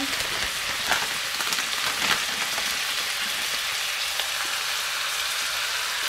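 Ham sizzles in a hot pan as part of a stir fry for spicy picadillo, giving a steady, loud hiss with faint pops and no break.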